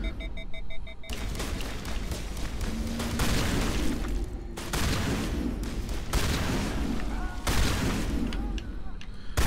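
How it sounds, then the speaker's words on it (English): Gunfire in Mass Effect Legendary Edition, aimed at a dead enemy's body: loud, repeated shots in irregular bursts over a game soundscape, with a voice heard briefly. "I'm just shooting her body."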